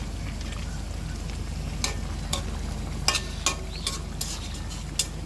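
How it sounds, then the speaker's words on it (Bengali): Bele (baila) fish frying in a pan is stirred gently, giving a steady low sizzle with a handful of sharp scraping clicks at irregular intervals. No voices are heard. "তো এখন আমি একটু নাড়িয়ে দিব, দিয়ে তারপর ঢেকে দিব।"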